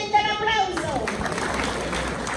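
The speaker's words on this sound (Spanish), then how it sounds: "¿Que se siente el aplauso?" Applause from the audience at a Dominican Labour Day union gathering rises as a brief tonal sound fades out, followed by steady crowd clapping at moderate loudness with some voices mixed in.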